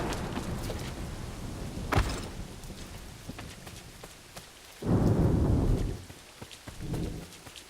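Steady rain from an Assassin's Creed 3 game storm at night, with a sharp thunder crack early on and two heavier rumbling bursts of thunder later, no talk.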